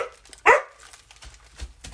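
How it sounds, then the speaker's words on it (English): A single sharp dog bark rings out nearby, followed by faint indoor rustling and low background noise. "Grayson, can you please give your dog some attention?"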